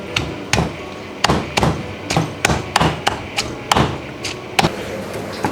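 Green curry paste ingredients pounded in a Thai mortar, a series of sharp, irregular thuds and knocks spaced about half a second apart, close and fairly loud, with no voices.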